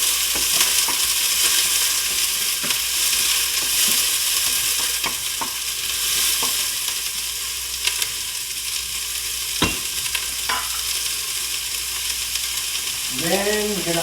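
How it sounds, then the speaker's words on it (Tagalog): Garlic and onions sauté in a pan for a lomi dish, a steady close sizzle of frying with stirring scrapes and small clinks throughout, no voices. "the garlic is already slightly brown, I'm gonna add the onions. We're gonna saute it and it becomes translucent"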